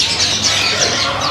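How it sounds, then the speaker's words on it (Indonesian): A captive-bred male murai trotol songbird calls close by in short, bright chirping notes over a steady background hiss, lasting just over a second with no voices. "jadi ini murai trotol jantan tangkaran ya"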